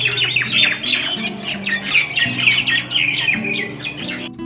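Morning birds call loudly and constantly, with harsh squawks and quick chirps overlapping close by over a low steady background hum, with no voices.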